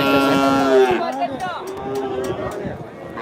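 A young bull calf at a crowded cattle market lets out a loud, drawn-out moo close by, its call sliding downward, with people talking in the background.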